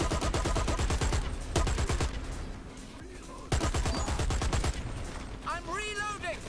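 Rapid bursts of automatic gunfire from the online shooter Dirty Bomb, loud and dense with a brief lull mid-way, then more firing and a whistling, warbling effect near the end.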